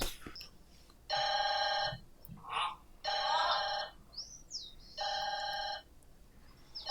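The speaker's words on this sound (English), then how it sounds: "You ain't gonna get the phone?" A telephone rings in an anime episode with three long, loud bursts of electronic trilling separated by pauses, with short bright chirps and a faint voice in the gaps.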